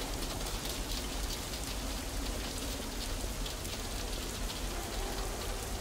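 Rain in the video game Nibiru falls as a steady, dense hiss of drops striking surfaces, constant and fairly loud with no pauses and no talking.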